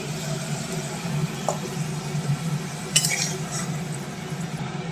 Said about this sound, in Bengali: আলুটাও তুলে নিচ্ছি